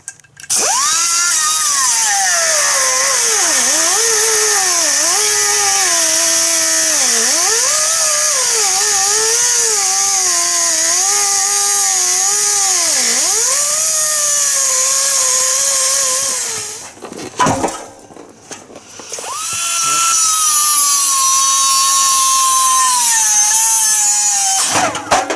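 A power saw cuts through the exhaust pipe of a 2011 Chevy Equinox, throwing sparks. The loud, continuous whine rises and falls in pitch as the blade bites, pauses briefly near the end, then resumes. No one speaks.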